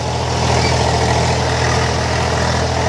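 An Eicher 485 tractor engine runs steadily near the microphone, a loud, even low rumble that holds without a break and with no voices.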